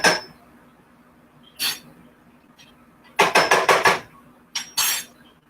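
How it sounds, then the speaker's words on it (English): Almonds roasting in a pan get stirred with a utensil, giving sharp metallic scrapes and clinks in separate bursts, including a quick cluster of rapid strokes, close and fairly loud against a quiet background. "So I'm giving them a good stir."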